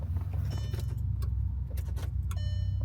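An old Mk1 Audi TT 225 8N sports car that will not start gives several faint, sharp clicks from its relay as the key is turned, over a low steady hum in a quiet space.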